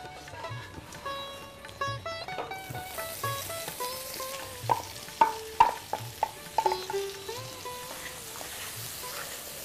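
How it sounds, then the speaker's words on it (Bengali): Cumin seeds crackle as they temper in hot oil for dal with roasted eggplant, a soft sizzle with a run of sharp pops and spits that grow busier midway, under faint tonal sounds in the background. "জিরে ফোড়ন, জিরেটা ক্র্যাকেল করতে গেলে"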